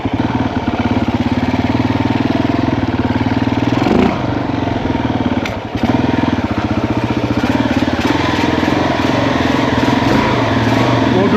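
A Yamaha TT350 motorcycle engine idles steadily in falling snow, a loud, continuous low chugging throb close by that runs the whole time with only a brief dip midway.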